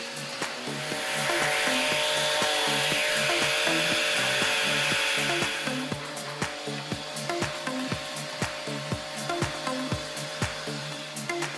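Wood edges being rounded with 180-grit sandpaper on a table saw fence build, first a continuous rough hiss that then breaks into short, regular rubbing strokes, close and moderately loud.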